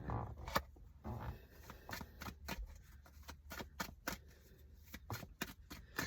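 A Raise Your Vibration Oracle card deck is shuffled by hand, giving a run of quick, crisp riffling snaps and flutters at close range, quiet overall.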